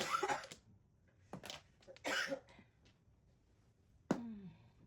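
Several short, harsh coughs from one person nearby, in separate bursts with quiet gaps between them, the last one rough and trailing off.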